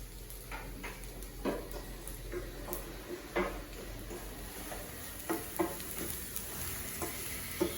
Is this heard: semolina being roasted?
yes